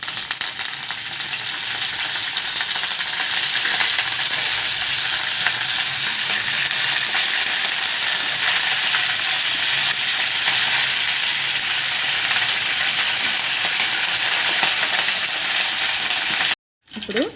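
Mustard seeds and curry leaves sizzle and crackle in about three tablespoons of hot oil as a tempering for a drumstick and tomato curry, a steady, loud, continuous frying hiss with a brief silence near the end.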